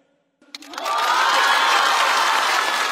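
Applause and cheering from a stand-up comedy show audience swell in after a brief near-silent pause, then hold as a loud, dense, sustained roar of clapping and shouts.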